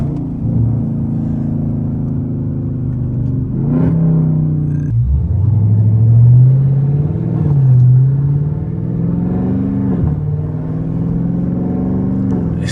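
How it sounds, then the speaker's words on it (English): Deep, steady exhaust rumble from a catless Dodge Scat Pack heard from inside while cruising near 2,000 RPM, loud and droning with a few swells in pitch as the engine pulls. "I want y'all to hear how loud this car is"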